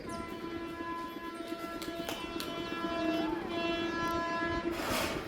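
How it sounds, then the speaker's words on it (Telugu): A train draws near with a sustained horn blaring over the rumbling, clattering wheels, growing louder toward the end. "ట్రైన్ వస్తాను చూడు"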